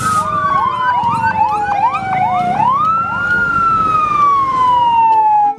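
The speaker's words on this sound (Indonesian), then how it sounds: "ternyata di sini ada mobil kebakaran teman-teman" A toy fire truck siren wails loud and close, its single tone sweeping down then rising and falling again, with no talking.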